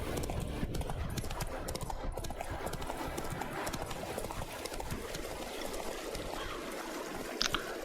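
Roach the horse trots along a road in The Witcher 3, hooves clip-clopping in a steady, fast rhythm under a constant wash of game ambience.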